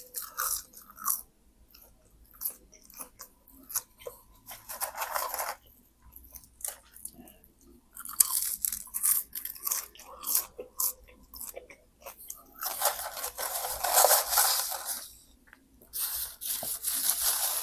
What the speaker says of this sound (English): I always eat the fries first as appetizers.